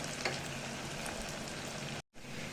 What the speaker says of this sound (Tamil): ஒரு வெங்காயம், கைப்பிடி வெங்காயத்தை போட்டு நல்லா ஃப்ரை பண்ணிக்கணும்.